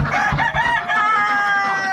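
Farm chickens in a coop: a rooster crows loudly and close with a long drawn-out call, while hens cluck underneath it.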